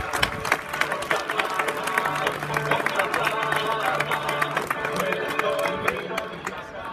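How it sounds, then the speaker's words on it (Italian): An audience applauds at the opening of the Palio di Maggio at San Benedetto, a dense crowd of clapping hands with some cheering that carries on for several seconds. "Un applauso a Martina."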